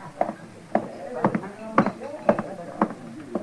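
Horse hooves clip-clop at a steady walking pace along a street as a radio-drama western sound effect, evenly spaced sharp knocks, fairly close and clear.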